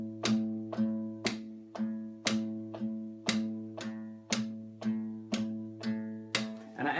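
Steady moving bass line on guitar, plucked evenly and close, with sharp percussive palm clicks against the guitar body landing on beats two and four in a regular four-beat pattern.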